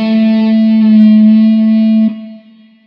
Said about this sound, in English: using the pitch bend wheel sounds especially good with wailing guitar solo lines